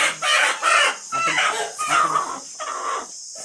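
A close, loud flock of chickens clucks and cackles continuously, with drawn-out crowing calls rising among the chatter and a faint steady hum behind.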